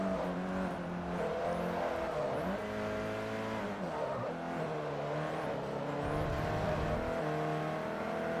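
A Volvo race car engine in Forza Motorsport 3 drones steadily, its pitch rising and falling through gear changes. Tires squeal faintly at moments, and the engine stays loud and close throughout with no talking.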